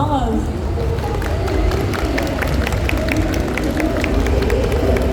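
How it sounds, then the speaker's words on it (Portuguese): A large crowd at the Anime Friends 2025 convention in Brazil claps and cheers, a loud, continuous roar of hands and voices with heavy low rumble throughout. "Palmas."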